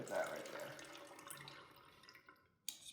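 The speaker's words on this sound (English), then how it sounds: "So I'm going to pour that buttermilk out." Buttermilk poured off freshly churned butter, a quiet liquid splash and trickle running steadily for a couple of seconds before tapering off, with a short knock near the end.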